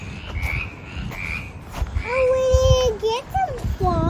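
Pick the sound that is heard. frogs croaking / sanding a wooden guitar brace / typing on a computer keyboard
frogs croaking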